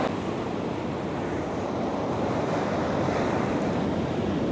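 Sea waves crash and roll onto the shore in a constant loud roar of surf, with wind buffeting the microphone and no voices.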